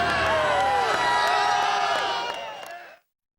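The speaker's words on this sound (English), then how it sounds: "Have a sellout crowd in here at Candlestick Park." A sellout NFL crowd roars at Candlestick Park before the 1981 NFC Championship game, a loud, dense wall of cheering and whoops that stays steady, then cuts off abruptly near the end.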